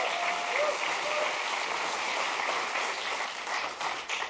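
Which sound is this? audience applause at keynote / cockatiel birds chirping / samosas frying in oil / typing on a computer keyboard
audience applause at keynote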